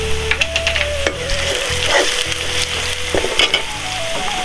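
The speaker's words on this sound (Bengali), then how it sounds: "পেঁয়াজ কাঁচামরিচ আর ধনে পাতা এগুলি ভাজবো তো এখন দিয়ে দিলাম তেজপাতা এলাচ দারচিনি" Bay leaf, cardamom and cinnamon sizzle and crackle loudly in hot oil during Bangladeshi chicken and potato curry cooking, with a steady close frying hiss and scraping stir sounds from a utensil in the pan.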